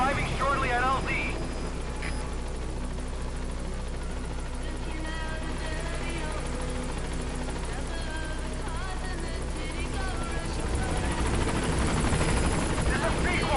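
A helicopter approaches a landing zone in the video game Metal Gear Solid V, a loud, continuous rotor thrum that fills the clip while radio chatter plays over it.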